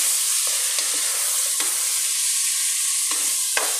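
Chicken pieces sizzle steadily in a hot pan, sautéed for tinola, with a few sharp scraping stirs of a utensil cutting through the constant frying hiss.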